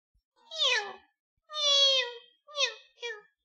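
A person imitates cat meows with the voice: four separate, clear meow calls, the first two drawn out and the last two shorter, close and fairly loud with silence between them and no other talk.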